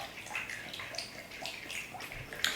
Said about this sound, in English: So then we just pour out the water from inside of the mature coconut